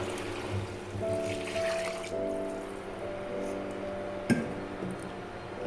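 Water being poured into basmati rice for spicy chana biryani, a steady close trickle with a rising filling tone, a sharp clink near the end, and no talking.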